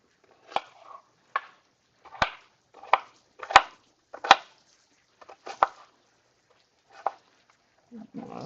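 Knife chopping an onion over a pan of corned beef hash, a series of about nine sharp, separate cuts at an uneven rhythm, close and fairly clear, ending in a soft rustle.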